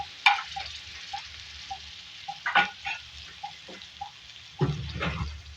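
Chopped green chilies hitting hot oil with frying ginger and garlic, producing short crackling sizzle bursts and a few spoon clinks over a faint background, with a louder spitting flare near the end.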